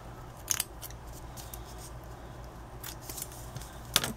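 Scissors snip through paper while making Halloween coffin embellishments, with two short, crisp cuts near the start and end separated by quiet room tone.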